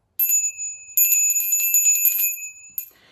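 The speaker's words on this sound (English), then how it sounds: "is a little bell." A small hand bell rings with a bright, sustained metallic tone: one short ring, then a longer stretch of rapid jingling shakes, and a final light tap as it fades out.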